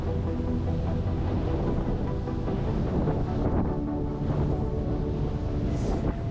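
A Pardo GT52 yacht planing at 12 knots, its twin 600-horsepower diesel engines producing a steady, loud, broadband drone mixed with rushing water and wind buffeting throughout.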